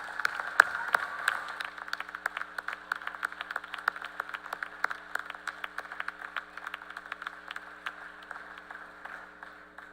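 Graduating candidates at a Purdue University Northwest commencement in Westville applaud their families, scattered hand claps crackling through a large hall over a low steady hum, fairly quiet and thinning out as it goes on.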